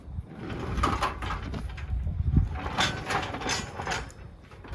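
A goat milking stand's mechanism swings shut as a foot lever is worked, giving a close, grinding metallic rattle with ratchet-like clicks that rise and fall over a few seconds, with no one talking.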